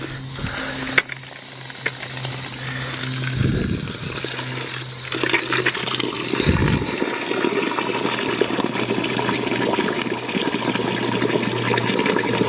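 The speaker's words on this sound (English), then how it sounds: "We fill it up with water." Water filling a container of cracked corn being soaked for chicken feed, a steady rushing, gurgling pour lasting throughout with mechanical clicking and rattling layered over it, fairly close and constant.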